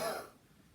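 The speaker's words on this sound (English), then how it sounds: "now we're going to cough." A single cough from a Pilates and chi kung instructor during a breathing exercise, a short close burst that fades quickly, heard alone.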